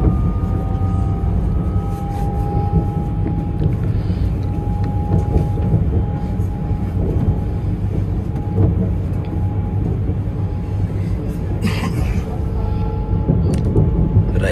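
A German train picking up speed: a loud, continuous rolling rumble with a faint rising whine on top, steady throughout and heard from on board.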